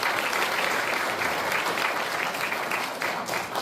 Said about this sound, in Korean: 김호동 지부장님께 다시 한번 큰 박수 부탁드리겠습니다